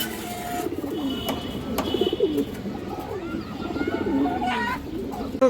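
A pigeon in a loft of fancy breeds coos in low, repeated rolling phrases, close and steady, with a voice talking over it.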